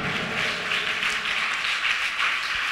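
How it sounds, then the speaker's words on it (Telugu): A congregation at Hosanna Mandir church in Bhimavaram claps hard and continuously, a dense, even wash of hand claps with no voices over it. "గట్టిగా చప్పట్లు కొట్టి దేవుడు మహిమ పరుద్దాం"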